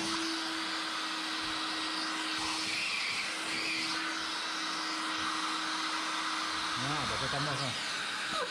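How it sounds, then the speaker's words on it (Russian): Vacuum cleaner running inside a VW Golf CL during interior cleaning, a steady whining drone with a sustained tonal hum; the motor pitch shifts briefly near the end. "Вот эту чепуху сейчас пылесосом будем снимать"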